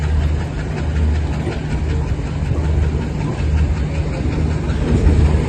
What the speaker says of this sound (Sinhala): ත්‍රිකුණාමලේ ඉඳලා කොළඹ කොටුව දක්වා ගමන් කරන දුම්රිය දැන් පිටත් වෙනවා